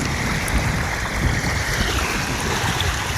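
A village stream running strong and fast, a steady loud rush of churning water with rumbling low turbulence and a roaring wash that continues unbroken for the whole stretch, close to the listener, with no voices.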